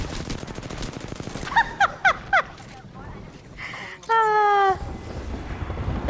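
A full-auto gun firing in the battle royale shooter Apex Legends: a burst of sharp shots, then a rapid rattling stream of automatic fire with a bright mechanical buzz, loud and close.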